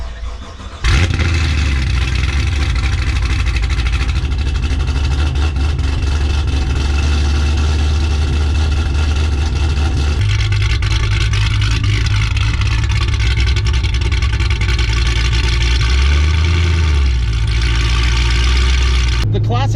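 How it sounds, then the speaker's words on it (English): A Chevrolet Camaro with a Classic off-road exhaust starts up with a sudden loud burst, then idles and revs with a deep, droning rumble that stays close and continuous. "Classic exhaust is considered an off-road exhaust. It does drone."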